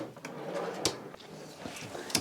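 A DIY storage drawer slides shut with a scraping rub and a couple of sharp knocks, close by in a quiet room.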